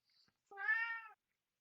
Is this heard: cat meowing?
yes